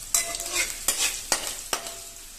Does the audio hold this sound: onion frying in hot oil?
yes